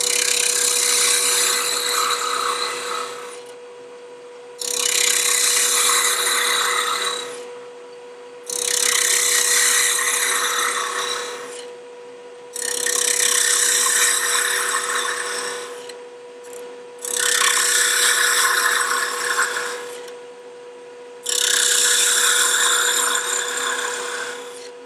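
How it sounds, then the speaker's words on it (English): Parting tool from D-Way Tools cutting into wood on a lathe while turning a small Christmas tree top, giving six loud rasping bursts of a few seconds each, separated by short quieter pauses, with no talk. "That's using my parting tool from D-Way Tools."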